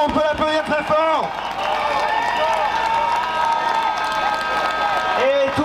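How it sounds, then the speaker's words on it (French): Crowd at a street demonstration in France breaking into applause and cheers, a dense sustained clatter of clapping with shouts rising over it, loud and close, after a voice at the start. "Bravo Victor, on peut l'applaudir très fort."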